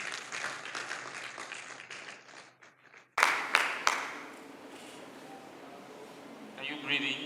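Workshop audience claps for the faculty dean, a burst of applause starting abruptly after a speaking voice and then fading into a murmuring room.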